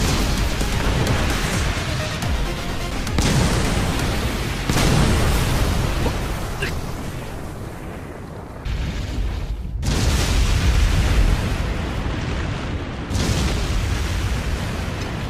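An anime missile launch and explosion roar loudly and continuously, a thick rumbling blast with surging waves of booming noise and a brief dip partway through, the sound filling the whole scene.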